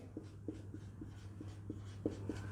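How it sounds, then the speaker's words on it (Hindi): Quiet scratching of a pen on paper in short, evenly spaced strokes over a steady low hum, close and faint, with no talking. "इसलिए हम लिखेंगे"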